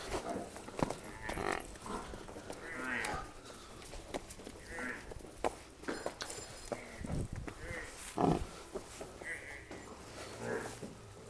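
Water buffalo on a village farm in Punjab lows in several drawn-out calls, fairly close, over a steady background of farmyard noise, with people talking nearby.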